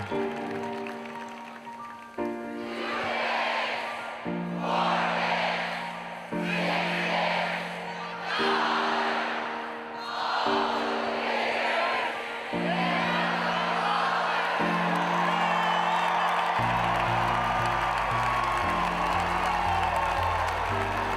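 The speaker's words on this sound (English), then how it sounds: "Albert and Alberta will lead you in the 2 bits cheer." A Florida Gators stadium crowd chants the two bits cheer in rhythmic, swelling bursts, loud and massed, building into sustained roaring applause and cheering at the end.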